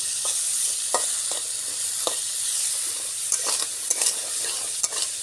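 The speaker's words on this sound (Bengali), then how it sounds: "আলুটা অবশ্যই একটু সময় নিয়ে ভাজতে হবে" Small potatoes fry in oil in a pan and are stirred, giving a soft, steady sizzle. Sharper scrapes and clicks from the stirring break through now and then, close by and with no talk.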